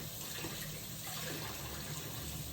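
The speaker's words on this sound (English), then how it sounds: "I'm gonna rinse this off a little better." A steady, faint stream of running water rinses marigold flowers, a continuous soft wash with no talk over it.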